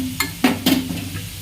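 Onions and tomato sizzle in a pan, and a few distinct stirring scrapes rise above a soft, steady frying hiss.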